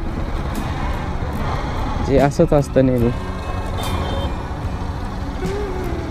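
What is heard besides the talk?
road traffic in Waghuri, trucks and vehicles passing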